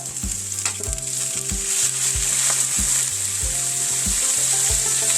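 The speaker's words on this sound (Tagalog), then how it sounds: "Gisa na sibuyas. Tapos, gato na, bawang." Onion and garlic sautéing in a hot pan for Waray-style spinach, a loud, steady, close sizzle with occasional stirring scrapes and a low pulsing tone running underneath, no speech.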